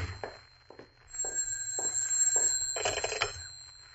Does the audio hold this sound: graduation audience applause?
no